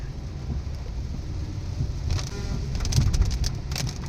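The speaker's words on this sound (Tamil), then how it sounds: "நல்ல மழை ஃபுல்லாக ஸ்டார்ட் ஆகிடுச்சு கைஸ்." Heavy rain beginning to fall in Chennai: a steady, moderate wash of rainfall with occasional sharper patters and drips growing toward the end, heard on its own without talk.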